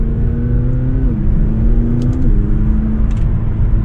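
McLaren 570GT sports car engine pulling hard under acceleration, a steady loud drone whose pitch climbs, then drops twice as the gearbox shifts, heard close from inside the cabin.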